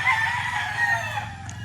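Roosters fighting squawk and cluck loudly up close in an agitated flurry, with a rough, continuous noise underneath.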